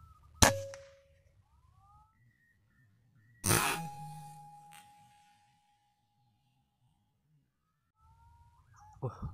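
Two sharp air rifle shots crack in a quiet forest while hunting a turtle dove at roughly 45 to 50 metres, each a sudden loud report with a brief ringing tail, and faint bird calls between them.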